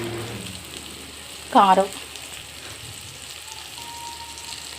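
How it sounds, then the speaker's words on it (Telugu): Tomatoes and onions frying in a pan give a steady soft sizzle throughout, with a brief burst of talking partway through. "టమాటా వేసి ఇది వేయించేద్దాం ఫస్ట్"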